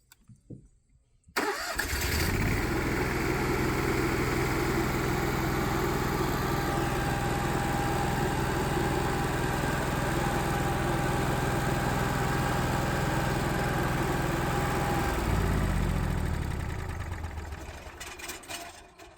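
An Onan 5500 gas RV generator cranks and catches after a quiet moment, then runs at a steady, loud droning idle with a constant hum before its sound shifts and fades toward the end.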